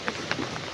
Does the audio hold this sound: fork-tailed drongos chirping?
no